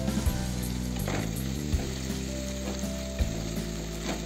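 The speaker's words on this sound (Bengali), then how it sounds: "এবার আমরা এর মধ্যে কাজু দিয়ে দিচ্ছি।" Cashews sizzling in hot oil in a pan with onions and tomatoes, a steady close frying hiss broken by soft clicks and scrapes of stirring, with no talking.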